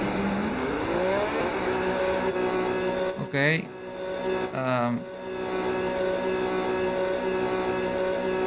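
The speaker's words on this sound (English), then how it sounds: "I love the engine sound of this new 4 engine in the Red Bull." A Red Bull Formula 1 car with its new engine in the racing game F1 26 drones at a steady pitch, then climbs through two quick rising revs around the middle, with a brief spoken word.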